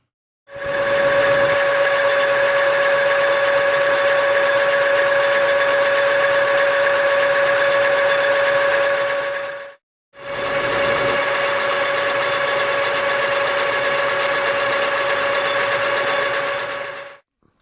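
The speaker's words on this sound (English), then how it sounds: "I'm going to go into the lathe now and do the turning that we need to do on this." A lathe turns a part for spindle bearings, giving a loud, steady mechanical whine that runs about nine seconds, stops briefly, then resumes at the same pitch.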